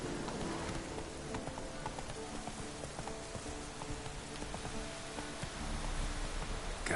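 Horse hooves clip-clop at a steady trot in The Witcher 3, faint and continuous under a rain-like wash of ambient game noise.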